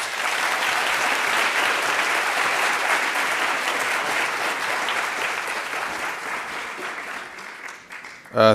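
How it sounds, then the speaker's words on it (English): A university event audience gives a big round of applause, dense crowd clapping that holds steady then gradually thins toward the end before a sudden close bump. "Please give them and this entire event a big round of applause."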